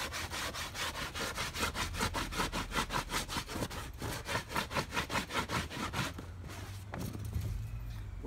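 A stone rubbed rapidly back and forth across a stretched raccoon hide, a rhythmic scraping rasp of about four strokes per second, close and steady, then slowing to lighter strokes near the end.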